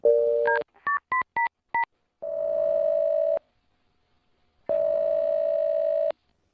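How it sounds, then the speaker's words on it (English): A telephone number is dialed as a quick series of crisp DTMF keypad beeps, bracketed by a steady dial tone before and after, heard clearly with no talk. "I'm gonna dial her phone number right now, man."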